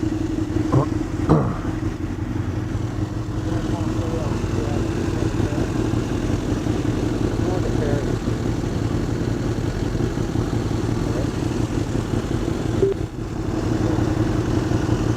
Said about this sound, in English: New Acropovich, new Austin Racing slip-on GP1R, titanium tip, slip-on.